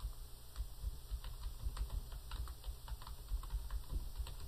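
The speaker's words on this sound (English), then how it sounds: "So there's a little bit of typing." Steady typing on a computer keyboard while entering a note, a run of quick, irregular key clicks at moderate loudness, heard alone without voices.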